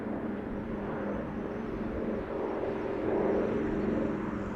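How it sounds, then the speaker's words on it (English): A 79-year-old DC3 Dakota propeller plane takes off at Amsterdam Schiphol, a distant, steady engine drone that swells slightly louder toward the end. "I think this is the airplane taking off."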